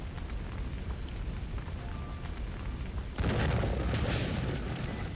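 A self-destruct explosion in Tales of Graces f hits suddenly partway through, a loud burst that swells into a sustained, crackling roar after a quieter, low rumbling stretch.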